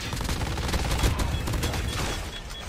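Grenade blast amid rapid gunfire in the shooter game COD Mobile, a dense stretch of loud cracks and booms packed together with no pauses.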